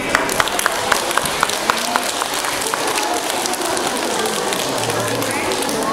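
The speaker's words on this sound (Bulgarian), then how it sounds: "Така, аплодисменти." Applause from an audience at a children's carnival costume parade for June 1st, a dense wash of many hands clapping steadily and evenly, with sharp individual claps poking out early on and some crowd chatter underneath.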